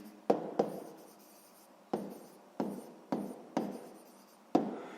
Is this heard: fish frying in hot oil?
no